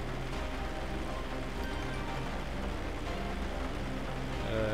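Steady rain falls in the Grand Theft Auto 5 video game, a constant faint wash of noise with a low rumbling undertone and no voices.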